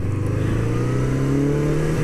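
A 1981 Honda CB650 cafe racer motorcycle riding along a road on a nice day, its engine droning steadily with rising pitch as it accelerates, close and continuous with no talk.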